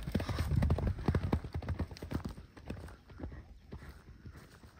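Horse hooves clip-clop in a quick, irregular run of clattering beats that are loud at first and then gradually fade, with faint background sound underneath.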